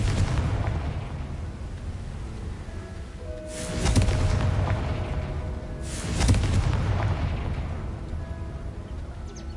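Fiery Confringo blasting spell from Hogwarts Legacy, two heavy booming bursts a couple of seconds apart over a dense rumbling battle bed, loud and close with no voices.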